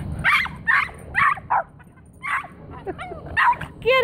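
Several dogs barking and yipping excitedly at a squirrel in a backyard tree, with sharp repeated barks, whimpers and higher yelps close by, in quick irregular bursts.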